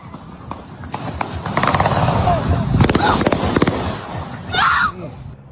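Gunshots ring out from a news recording of a mass shooting in a city park at night: a loud, chaotic stretch of sharp cracks in uneven bursts over crowd noise and shouting voices.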